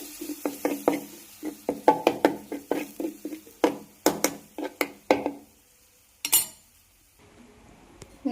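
A spoon stirs ginger curry with tamarind water in a pan, giving a run of sharp knocks and clinks against the metal, quick and irregular, then a brief scrape and quiet.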